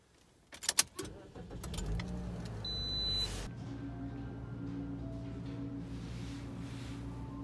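A car heading out for a drive: a few sharp clicks and jingles, then the engine comes on and settles into a steady low hum of the moving vehicle.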